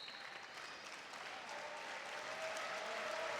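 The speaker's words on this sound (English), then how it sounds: "Baumgartner gave the golf clap to that." A soft golf clap at a college wrestling match between Iowa State and Stanford, a quiet patter of scattered applause that builds slightly over a few seconds against the arena murmur.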